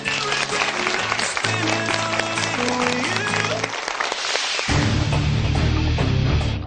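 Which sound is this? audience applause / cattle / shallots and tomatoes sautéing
audience applause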